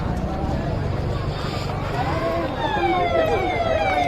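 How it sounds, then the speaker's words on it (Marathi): A police car siren wails in a town market street, rising and falling tones sweeping in during the second half over steady traffic and crowd noise. "हे काय पोलीसची गाडी"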